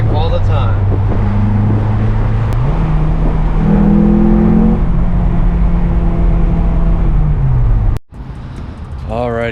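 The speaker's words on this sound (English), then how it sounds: "Heavy foot, VTEC all the time." Engine of a 2004 Acura TSX revving hard into VTEC, heard from inside the car: a loud sustained drone that climbs in pitch, holds high, then drops off sharply before picking up again.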